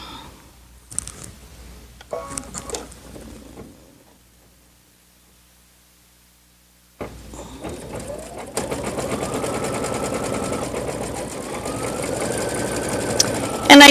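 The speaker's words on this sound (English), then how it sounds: "I'm going to sew out my letter." A Brother Luminaire embroidery machine stitches out a letter, starting around midway as a steady, close mechanical whir with rapid needle rhythm that continues to the end, after some earlier faint handling noises and a stretch of near silence.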